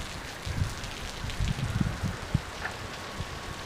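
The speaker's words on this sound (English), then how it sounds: "this is like a really isolated little shower." A light, isolated rain shower falls while the sun is shining, heard as a soft, steady patter with scattered close drops tapping on surfaces, faint and without voices.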